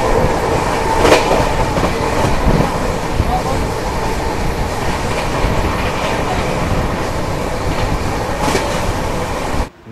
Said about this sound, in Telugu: నా లైఫ్లో ఫస్ట్ టైం నేను ఇలా ఒక ట్రైన్ ఎక్కినప్పుడు అది 130 plus స్పీడ్ పోవడం